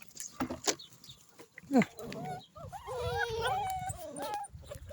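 Turkish sighthound (tazı) puppies whimpering and whining in high, wavering cries, with a few sharp yelps and low farmyard noise, a person's voice breaking in now and then, all fairly quiet.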